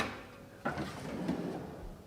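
A large, deep drawer in a grey, black and white kitchen island slides with a quick thump and a short rumbling glide, close by and faint, in a converted fire station apartment.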